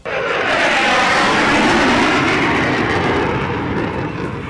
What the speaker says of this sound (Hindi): आसमान में जगुआर, सुखोई 30 और मिग 29 जैसे लड़ाकू विमानों ने भी उड़ान भरी, जिनकी दहाड़ सुनकर दुश्मनों का कलेजा कांप गया।